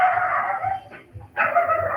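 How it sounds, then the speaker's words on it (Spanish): A small dog barks and yowls through an open microphone on an online class call, with two sustained, loud bursts separated by a short gap. "No, te parece encendido, tu perrito está ladrando."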